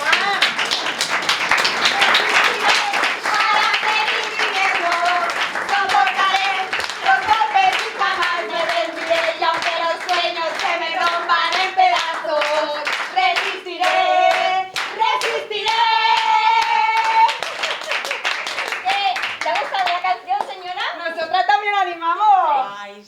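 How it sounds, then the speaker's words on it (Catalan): A group of people claps hands together in a steady rhythm for over twenty seconds, loud and close, while people talk and sing over the clapping. "Va, picar de mans"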